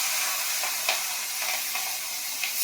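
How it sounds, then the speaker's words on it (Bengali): Fish frying in hot oil in a home kitchen, a steady bright sizzle with small crackles and pops scattered through, close and fairly quiet, no talk. "মাছগুলো লাল লাল করে ভাজা হয়ে গেছে, এবার তুলে নেব।"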